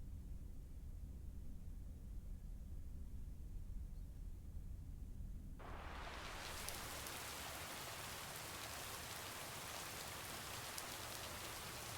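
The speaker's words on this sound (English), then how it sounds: "Oh no, it's raining." Steady rain falls, a soft hiss that suddenly grows much brighter and louder about halfway through and then keeps pouring without a break.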